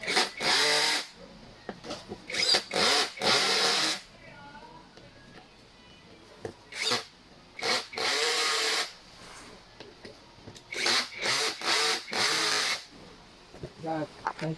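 A power drill tightens a bolt on a black mesh swivel chair in repeated short bursts of whirring, loud and close, separated by quieter gaps where someone speaks.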